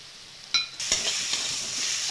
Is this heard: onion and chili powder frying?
yes